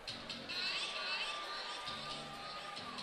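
Sold-out arena crowd at an MMA fight cheering and roaring in a continuous wash, with a commentator talking over it.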